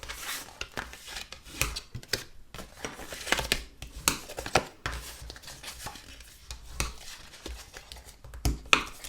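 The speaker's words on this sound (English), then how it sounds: "So just fold and burnish." Scored paper for a gift box is folded and burnished, giving close, irregular crisp creases, rubs and taps in quick bursts separated by short pauses, with no voices.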